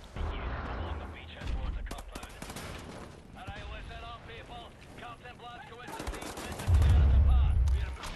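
Gunfire from the video game Wolfenstein crackles in dense bursts amid noisy game action, ending in a heavier, louder barrage.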